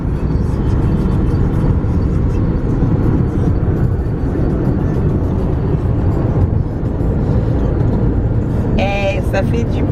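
A car is driven through Kinshasa, heard as a loud, constant low road and engine rumble from inside the vehicle, with a voice talking over it and a brief higher tone near the end.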